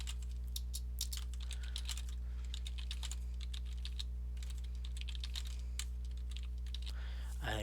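Steady rapid typing on a computer keyboard, entering code for a Fire Pro World rules setup; close, crisp key clicks in an even stream under a constant low electrical hum.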